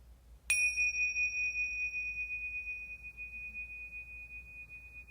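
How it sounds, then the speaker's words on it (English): A single strike of a meditation bell rings out clearly in a quiet room, its bright tone sustaining and slowly fading over several seconds. "Returning home with the sound of the bell."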